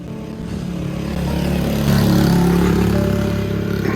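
A motorcycle passing along a road at sunrise in southeastern Jamaica, its engine drone swelling as it nears and holding loud before easing slightly, over steady outdoor background noise without speech.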